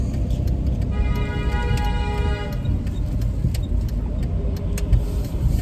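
Road traffic surrounds a car stuck in a jam, with a steady, loud low rumble of engines and passing vehicles, plus a brief horn-like tone early on.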